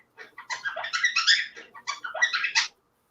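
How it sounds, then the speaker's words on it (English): Excited birds chirp and twitter indoors in quick bursts of bright, high calls, close and moderately loud, with no voices. "These birds are very excited."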